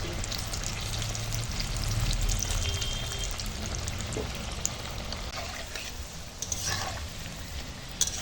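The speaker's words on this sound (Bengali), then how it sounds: "এই পকোড়াগুলো ভাজা হয়ে গেছে এবার তুলে নেব" Cauliflower and onion pakoras dipped in gram-flour batter fry in hot oil with a soft, steady, low-level crackle and hiss that runs unbroken throughout.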